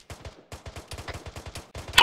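Rapid automatic gunfire from the military shooter ArmA 3, several quick bursts of evenly spaced shots rattling close and loud, with a sharper crack at the end.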